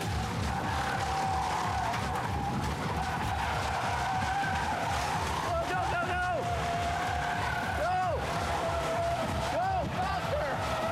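Pickup truck tires squeal and skid while fleeing a fast volcanic mud flow, with rising whines cutting through dense, continuous roaring engine and rumble noise.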